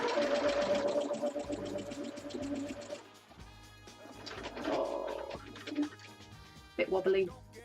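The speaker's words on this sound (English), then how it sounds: "I'm just turning the speed up so I can stitch quicker." A sewing machine stitches a Christmas mini quilt at raised speed, with fast continuous mechanical whirring in bursts, a pause, then more runs, while a person talks over it.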